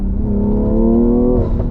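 A tuned BMW M340i with a B58 engine revs loud and close under hard acceleration, its steady engine drone rising as the tires spin and dig.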